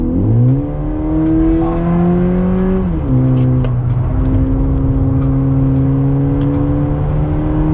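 A loud VW Polo GTS engine revs up near the mic, pitch rising steadily, dropping at a gear shift, then climbing again in a sustained, throaty roar.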